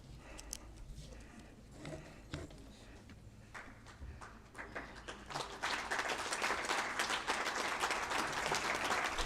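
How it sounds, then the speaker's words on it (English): A formal conclave audience applauds as a memento is handed to a dignitary, the clapping starting sparse and building to a dense, sustained round in the second half, with faint talk underneath early on. "A round of applause, please."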